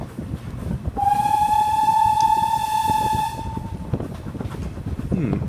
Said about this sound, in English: Should get some whistles in a second.